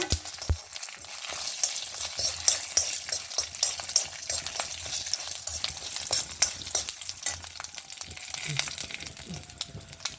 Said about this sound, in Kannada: ಹೀಗೆ ಸಾಸಿವೆ ಹುಟ್ಟುವಾಗ ಒಂದು 4 ಹಸಿಮೆಣಸು ಸಹ ಹಾಕೊಂಬ